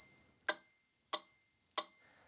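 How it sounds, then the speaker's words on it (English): Metronome bell clicks from a Roland SPD-SX Pro drum pad, four bright ringing ticks spaced evenly about two-thirds of a second apart, each with a short decaying tail, close and alone. "we would get the metronome bell all the time"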